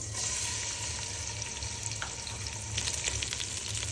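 Chopped onion frying in hot oil for beef biryani, a continuous soft sizzle with faint stirring, fairly quiet and steady, no voices.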